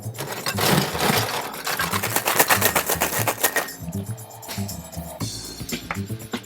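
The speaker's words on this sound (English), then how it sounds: "just going to give it a quick dry shake. And yeah, shake it up." A cocktail shaker is worked hard in a quick dry shake of lemon juice and gin for a Clover Club cocktail, giving a loud, rapid, steady rattling rhythm that loosens and breaks up about halfway through.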